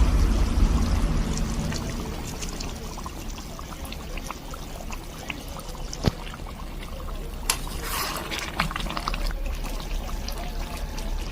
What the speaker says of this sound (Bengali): এবার এই স্টেজে এর মধ্যে দেব আমি একটু গোলাপ জল, আর দেব একটু কেওড়া জল।